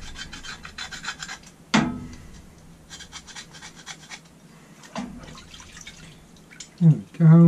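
Soap-filled supermarket scouring pad scrubbing a Holley 390 cfm four-barrel carburettor part, giving repeated close rasping strokes with brief wet pauses and a couple of sharper knocks, with faint background talk.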